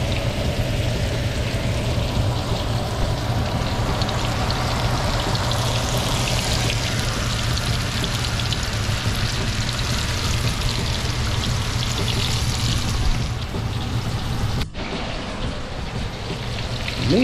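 Catfish fries in hot grease in a skillet, a loud, steady crackling sizzle that runs close and unbroken for most of the stretch before a sudden brief drop, with no talk over it.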